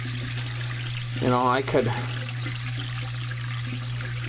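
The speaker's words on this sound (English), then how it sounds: "I'm gonna go ahead and turn on this valve. So now we got water running up there." Water flows through basement pipes after a valve is opened, making a steady low hum and rushing flow throughout, with someone speaking briefly over it.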